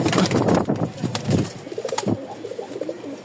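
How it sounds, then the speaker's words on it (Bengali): A pair of pigeons cooing close by, several soft rounded coos with a bit of feather rustle, no talking. "ডাক দেখেন কবুতর জোড়াটা, খুব সুন্দর একটা জোড়া"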